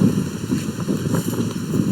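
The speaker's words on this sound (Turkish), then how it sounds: "Tam rüzgar başladı." Steady wind rushes and gusts against the microphone in a continuous buffeting roar, with no voices.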